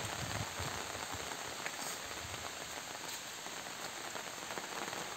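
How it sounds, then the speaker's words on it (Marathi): Steady rain falls on a village with farm fields near green hills, a soft, even patter that continues throughout with no voices. "मित्रांनो, पाऊस सुद्धा आलेला आहे"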